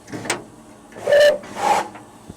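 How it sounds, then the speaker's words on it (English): A few short whistle blasts with hissing steam from a narrow-gauge steam locomotive on the Lynton and Barnstaple Railway, separate bursts of varying pitch over a quiet background, with no one speaking. "Quick check of the whistles."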